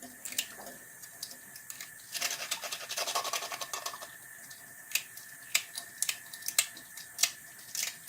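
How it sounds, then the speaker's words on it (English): Tongs scrape burnt residue off a hookah, giving a steady raspy rubbing texture with sharp metallic clicks and ticks scattered through, close and fairly quiet, with no talking. "Grab a hold of these little points and just scrape it off here."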